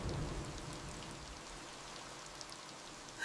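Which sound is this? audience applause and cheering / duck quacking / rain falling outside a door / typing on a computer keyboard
rain falling outside a door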